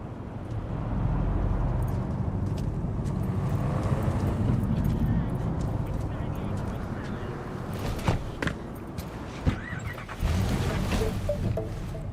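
A car driving in the video game Cyberpunk 2077, with a steady engine and road rumble that drops away near the end and gives way to a few thuds and clunks.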